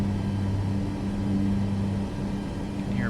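A Boeing 737 Max 8 engine starting up in Microsoft Flight Simulator 2024 gives off a steady, low buzzing drone that holds for about three seconds, with no talking.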